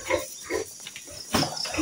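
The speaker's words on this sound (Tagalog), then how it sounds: "Yan sa wakas nahuli na po yung pangalawang baboy." A captured native pig gives short, close grunts and squeals in bursts outdoors, ending in a louder squeal.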